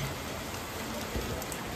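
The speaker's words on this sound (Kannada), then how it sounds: "ತುಂಬ ಮಳೆ." Heavy rain pours down in a dense, continuous wash of noise, with no distinct drops standing out.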